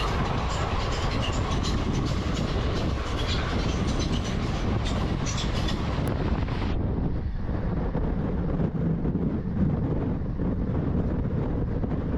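Steady loud rumble and rattle of a fast express train from Bhimavaram to Nagarsol, running nonstop toward Secunderabad, with wind buffeting throughout; the brighter hiss fades after about seven seconds, leaving a deeper continuous roar.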